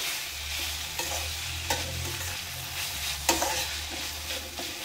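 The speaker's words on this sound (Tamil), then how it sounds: "வெங்காயம் நல்லா வதங்கிருச்சு. இப்போ தக்காளி சேர்த்துடலாம்." Onions and tomatoes sautéing in a pan, a steady close sizzle of frying with scraping stir strokes and occasional knocks of the spatula against the pan.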